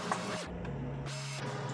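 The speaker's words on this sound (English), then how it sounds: "It's printing right there." A Canon PRO-1000 large-format inkjet printer feeds and prints on matte paper, giving a quiet mechanical whir with brief motor pitch changes and soft clunks over a low hum, with no talk.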